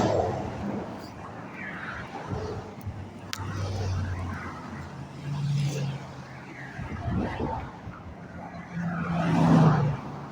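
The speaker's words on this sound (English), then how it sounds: "Let the traffic go past." Road traffic passes along a city street, engines swelling and fading in several waves over about ten seconds, with a louder vehicle rolling by near the end, heard as steady background under faint voices.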